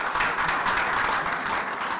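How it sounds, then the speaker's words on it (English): Brief, dense burst of audience applause at a tournament group draw ceremony, continuous and fairly loud throughout, with no voices over it. "I think that deserves a round of applause"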